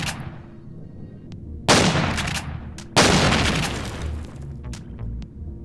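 A turret fires in the video game Empyrion: Galactic Survival, sending out two loud booming shots about a second apart, each trailing off into a rumbling decay over low game ambience.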